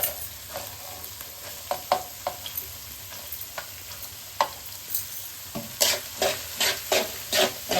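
Curry leaves and onions frying in a pan: scattered light clicks and scrapes of a spoon over a soft sizzle, growing into a quicker run of stirring strokes near the end, close up with no voices.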